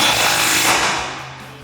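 Shock bolt on a 2009-2020 Ford F150 being tightened with an 18mm socket, likely an impact wrench, a loud buzzing whir that fades over under two seconds, close up with no speech.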